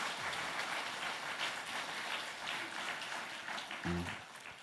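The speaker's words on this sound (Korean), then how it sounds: "우리 하나님 앞에 영광의 박수 올려드리겠습니다." Congregation in a Korean church clapping together at an evening revival service, a steady broadband patter of many hands, moderately distant and fairly quiet, with a brief low voice near the end.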